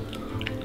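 Chewing on a large, tough gummy bacon candy, with soft wet biting and squishing sounds close to the mic.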